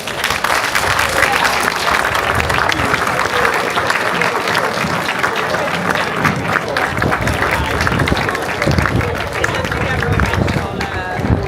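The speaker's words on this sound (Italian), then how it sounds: "tutta Mamoiada, ci uniamo in un grandissimo applauso" Applause from a festival audience at the third Su Carmu folk festival in Mamoiada, Sardinia, a dense, loud sustained clapping that runs steadily throughout with crowd noise mixed in.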